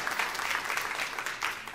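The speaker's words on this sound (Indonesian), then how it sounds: "Yang setuju berikan tepuk tangan yang meriah bagi Tuhan." Church congregation applauding during a sermon, a short burst of dense, fairly loud clapping from many hands, filling the moment without any talking over it.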